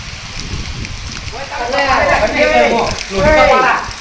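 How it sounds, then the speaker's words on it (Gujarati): Steady hiss of falling rain, with voices talking over it partway through. "અરે પણ વરસાદ આવે છે"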